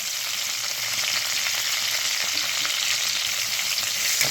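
Long, thinly sliced onions fry in a pan, giving a steady, dense hiss that stays even and fairly close throughout, with no voices.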